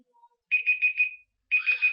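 A Google search-page timer alarm goes off in repeated bursts of bright electronic beeping, a group of four followed by another group of three, loud and alone against silence.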